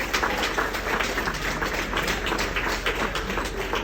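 Wedding guests give a round of applause for the newly married couple, a steady, dense wash of clapping that holds at an even level for several seconds without pause.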